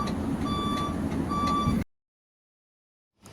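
Steady, evenly spaced reversing beeps sound over a low engine rumble as a truck with a trailer backs up, then cut off abruptly into silence.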